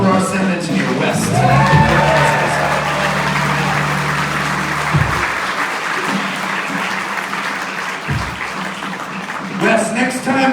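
Live concert audience breaks into sustained applause with cheers and whoops, honoring the sound engineer at a show; a broad, steady wash of clapping lasts throughout, with a low tone sounding beneath the start.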